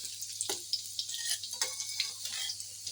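Fish frying in a pan, a soft steady sizzle broken by irregular ticks and small pops, close and fairly quiet, with no talking.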